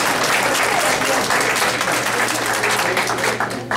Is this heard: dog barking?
no